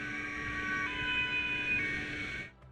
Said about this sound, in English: the tranquil atmosphere is abruptly broken by the unmistakable sound of police sirens